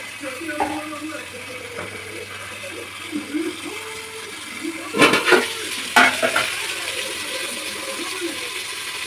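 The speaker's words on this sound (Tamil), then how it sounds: "10 நிமிஷம் நல்லா வதங்கட்டும்." Steady sizzling and frying of onions and tomatoes in a pan with occasional clinks and scrapes of a utensil stirring; a quiet background hum throughout.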